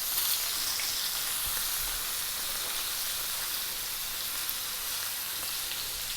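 Ribeye steak frying in olive oil and butter, a bright, steady sizzle with fine crackles, close and continuous without a break.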